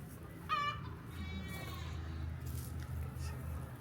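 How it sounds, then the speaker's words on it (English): A goat lets out a single wavering bleat, followed by fainter bleating, over a low steady outdoor hum. "My goats are acting like they're dying, but they just want out."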